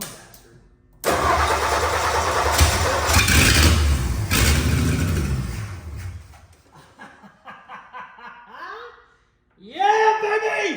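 An abandoned truck's engine cranks and catches, roaring for several seconds before dying down, with excited voices talking and shouting over it near the end.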